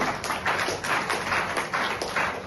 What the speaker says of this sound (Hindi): आप अपने लिए जोरदार तालियां बजाइए दोस्तों